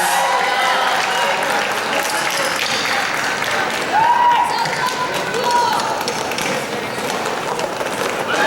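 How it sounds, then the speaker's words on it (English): Crowd applause for the Terminal City All-Stars roller derby team at a bout, loud sustained clapping and cheering from a large audience throughout. "let's give a big round of applause here for the Terminal City All-Stars"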